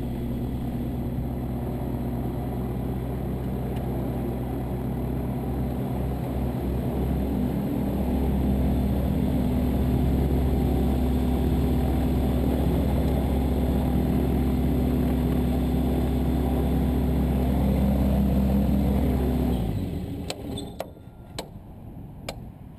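An autogiro taxis back to the hangar with only the pilot aboard, its engine a steady loud drone that holds for about twenty seconds before dropping off sharply, followed by a few clicks and knocks.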